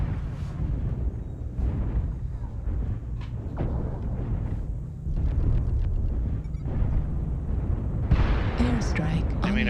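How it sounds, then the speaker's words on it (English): Airstrike in an online shooter video game: a dense barrage of booming explosions and heavy blasts rolls continuously, loud and layered, with a voice talking over the game audio throughout. "Airstrike"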